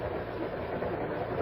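A moving passenger train at night gives off a steady, even rumble and hiss with no breaks, heard from on board and fairly quiet, with no one talking.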